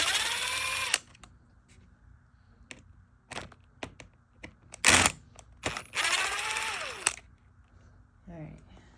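T10 Torx screws being unscrewed from a Think V2, heard as small clicky ratcheting and scraping ticks, with two loud bursts of high-pitched motorized whirring from a close electric screwdriver, alone with no talk.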